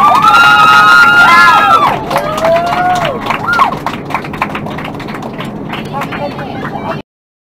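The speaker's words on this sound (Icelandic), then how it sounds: "og klappa fyrir bílstjóranum!" Passengers on an Icelandic bus break into a burst of clapping for the driver, mixed with whistle-like calls and voices, fairly close and sustained for several seconds before stopping abruptly.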